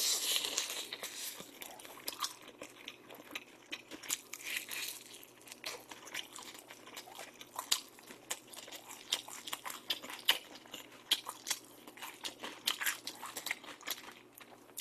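Crunchy fried chicken coated in a glossy rice-syrup glaze, from Pericana, being bitten and chewed close up, with repeated crisp crackling bites and crinkling over a quiet background, no talking.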